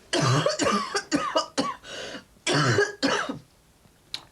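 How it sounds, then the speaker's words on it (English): A run of harsh, wet coughs and throat-clearing, close and loud, coming in quick bursts with short pauses, ending in one last small cough. "cough seems to be getting better"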